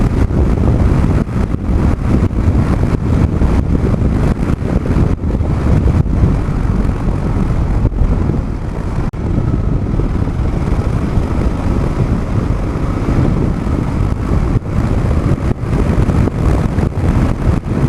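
Kawasaki KLR 650 motorcycle riding along, its engine drone steady and close beneath heavy wind buffeting on the microphone, with no pause throughout.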